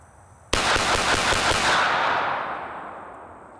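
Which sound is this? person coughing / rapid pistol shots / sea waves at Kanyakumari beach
rapid pistol shots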